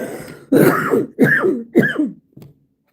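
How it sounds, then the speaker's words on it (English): A woman's coughing and throat clearing: three or four harsh, close bursts in quick succession, loud and alone, then a faint trailing one. "And I keep coughing."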